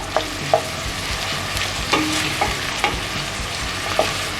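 Chopped onions cooking in oil in a pan for a Turkish imam bayıldı, with a steady background sizzle and several soft stirring knocks of a utensil against the pan, no talking.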